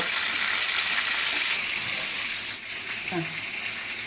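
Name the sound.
onion and green chillies frying in a pan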